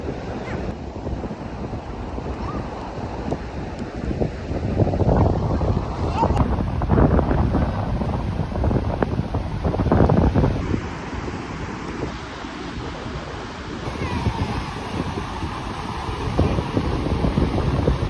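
Sea waves wash onto a sandy beach in a steady broad rush, mixed with heavy wind buffeting on the microphone, while people talk nearby.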